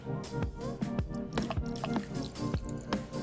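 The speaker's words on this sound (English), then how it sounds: "we'll stick that funnel right at the top of the radiator there. And we're gonna fill her up with this distilled water." Distilled water pours through a funnel into the radiator of a 2007 Suzuki GSXR 600, making a steady close trickle broken by gurgles and dripping plops.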